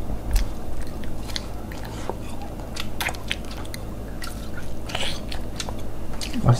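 A four-year-old girl bites into and chews syrup-soaked rasgulla or gulab jamun, with soft, wet mouth sounds repeating over a steady background hum.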